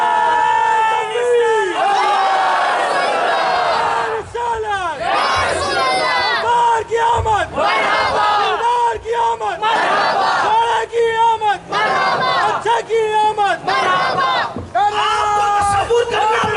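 A large crowd at an Islamic religious gathering roars a slogan back in unison, with repeated loud chanted shouts rising and falling in waves, answering a leading voice over the full stretch.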